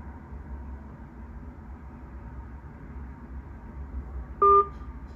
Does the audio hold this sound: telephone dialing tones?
yes